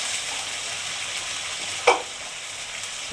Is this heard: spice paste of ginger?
yes